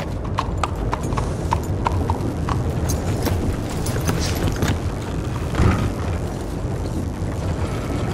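Horse hooves clip-clop in an even walking rhythm in Red Dead Redemption as the horse is led into a stable office, close and steady beneath faint ambient game noise.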